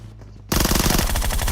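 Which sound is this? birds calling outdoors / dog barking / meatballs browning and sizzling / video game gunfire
video game gunfire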